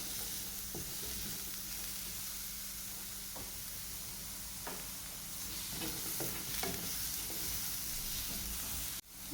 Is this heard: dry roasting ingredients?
yes